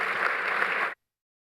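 A conference session audience applauds with dense, steady clapping for under a second before it cuts off abruptly into silence.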